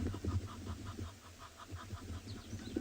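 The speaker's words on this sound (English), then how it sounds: "That's an Egyptian goose." An Egyptian goose honks in a rapid, evenly spaced series of harsh calls, moderately distant over a low outdoor background, with no voices.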